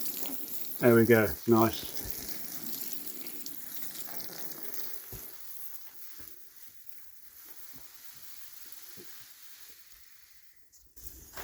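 Water poured onto parsley in a no-dig compost garden bed, a soft hissing, trickling splash that soaks in and tapers off, with a brief spoken remark early on.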